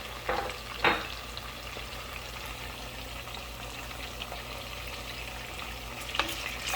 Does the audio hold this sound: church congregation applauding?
no